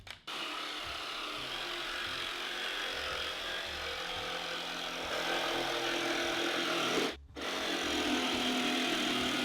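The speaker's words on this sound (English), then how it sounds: "I'm gonna be using a jigsaw with a scroll blade" A jigsaw fitted with a scroll blade cuts curves in plywood, giving a continuous buzzing, rasping drone that runs nearly unbroken with one brief pause, close and moderately loud.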